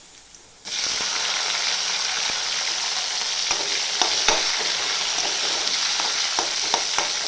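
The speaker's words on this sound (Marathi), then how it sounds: "टमाटर पण लगेच तेलामध्ये फ्राय होईल चांगलं" Chopped tomatoes hitting hot oil in a home kitchen pan while making a flat-bean (wal papdi) curry: a quiet moment, then a sudden loud, sustained sizzle with scattered crackles and pops as the pieces fry.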